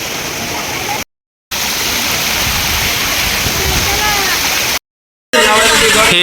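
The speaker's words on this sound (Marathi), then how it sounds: "असं पायऱ्यावरून पाणी पडत आहे" Water pouring down stone steps like a waterfall near the Ekvira temple at Karla caves, a loud, close, continuous roar and splash, cut by two brief silent gaps.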